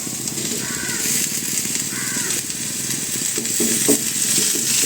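Onions and tomatoes fry in a pan with a steady sizzle, stirred by a spoon scraping and clinking close by, the busy cooking noise continuous and fairly loud throughout.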